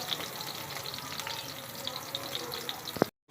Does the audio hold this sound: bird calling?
no